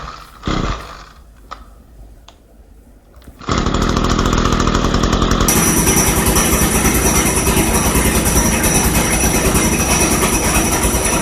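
Echo GT-225 string trimmer with a bad clutch, engine running steadily with a loud, continuous buzzing drone after a brief quiet start with a few knocks, the trimmer head still spinning at low throttle.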